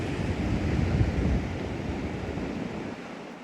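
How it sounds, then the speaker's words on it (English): Steady, loud coastal wind at Teignmouth rushes and buffets the microphone, a continuous roar with no voices. "Bit windy blows up here."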